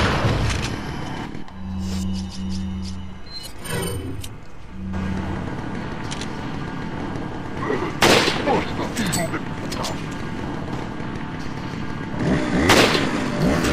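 Shotgun blasts in Resident Evil 4, a few loud booming shots spaced apart over tense game noise, with a voice talking in places.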